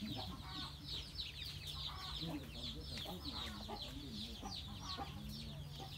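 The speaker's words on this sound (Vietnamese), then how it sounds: "ô gà vô nhà cơ ông" Several chickens cluck and chatter close by after wandering into a rural Vietnamese house, a busy overlapping run of short clucks with faint background voices.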